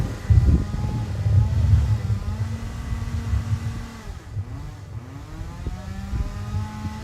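Micromax race cars running laps on a track, engines rising and falling as they pass at a distance, with a Doppler sweep near the end and no voices.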